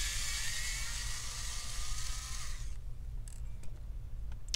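Screws are backed out of an Asus GL703GE gaming laptop during disassembly: a steady whirring buzz runs for under three seconds, stops, and is followed by a few light, close clicks.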